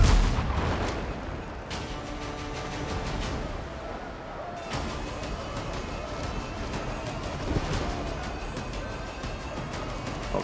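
Ship cannons fire in the sea battle game Windrose, a series of booming shots at irregular intervals over a constant loud background of wind and water, with a voice talking now and then.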